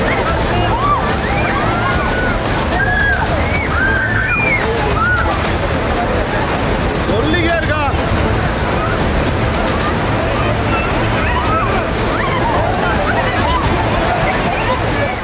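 A flash flood rushes down a forest stream near a waterfall, a loud, continuous roar of churning water that fills the whole stretch without pause.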